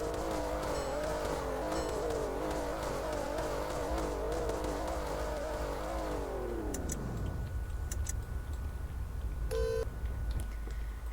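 A car engine in the Roblox game Greenville idles and revs with a throaty exhaust tone, then winds down as pitch falls, leaving faint ticking and short electronic beeps.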